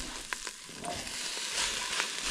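Potatoes tumbled into a pot of frying onions for a garlic and caramelized onion soup, giving a steady close sizzle with soft stirring scrapes and light knocks, no voices.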